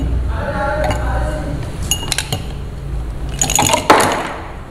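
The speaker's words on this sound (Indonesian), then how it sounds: "Setelah itu akan aku tambahin es batu." Ice cubes clinking into a glass of drink, with scattered sharp glassy clinks that build into a dense cluster of rattling near the end, heard close over a steady background hum.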